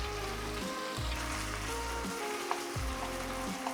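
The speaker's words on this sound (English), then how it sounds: "push to one side, add more oil if necessary, and saute the aromatics." Aromatics sautéing in hot oil in a pan while cooking mapo nasu, a steady close sizzle with a few spatula scrapes and shifting crackles throughout.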